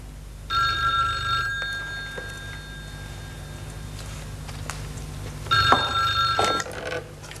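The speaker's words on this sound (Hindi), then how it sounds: "लीजा जी, साहब से कहो उनका टेलीफोन है" An old landline telephone bell ringing in a home, two bright electric rings about five seconds apart over a quiet low hum, with no talk.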